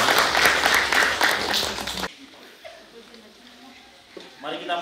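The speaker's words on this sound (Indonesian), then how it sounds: "Mari kita tepuk tangan untuk pasangan berbahagia." Applause for a newlywed couple at a wedding ceremony in Rembon, a dense burst of clapping for about two seconds that cuts off abruptly, followed by quiet room sound with faint voices.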